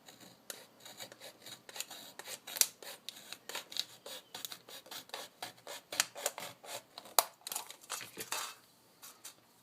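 Metal can sliced down its side with snips, a quick run of close, scratchy rasping cuts in an irregular rhythm, fairly quiet with no talk.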